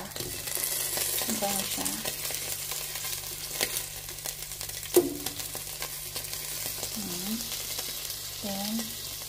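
Onions and liver sizzling in a hot pan while being stir-fried for pork menudo, a steady frying crackle with a few scraping stir sounds, a brief spoken remark over it.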